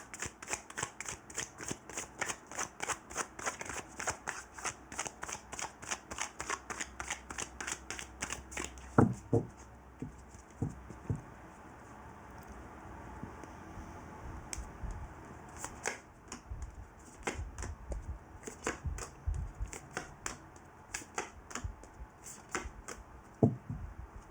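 Oracle cards shuffled by hand over a long stretch, with repeated crisp, rhythmic slaps and riffles close by and brief pauses between bursts.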